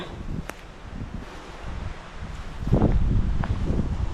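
Wind blows through rustling leaves outdoors, gusting louder in the second half with occasional crackles nearby.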